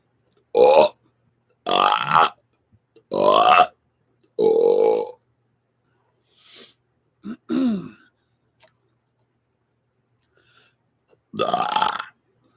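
A person burps repeatedly on request, about six loud, drawn-out belches with pauses between them, each close and dry, plus a brief throat-clearing grunt and a short click in the quiet gaps.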